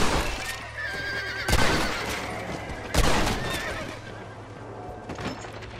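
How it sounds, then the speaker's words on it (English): A horse in the Western video game Red Dead Redemption neighs and whinnies loudly several times, with sharp bursts and hoof clip-clops amid game ambience, no speech. "Horse is freaking out."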